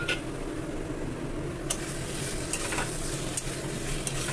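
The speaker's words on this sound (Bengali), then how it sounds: "মশলা এখন খুব ভালোভাবে কষবে" Spice masala and tomato sauté in a pan in a dense, steady sizzle, with a few light scrapes and clinks of a utensil stirring near the end. No voices are present.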